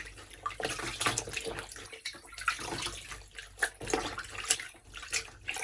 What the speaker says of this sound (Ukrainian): Я просто сюди опускаю шкарпетки, дивлюся, щоб вони всі промокли.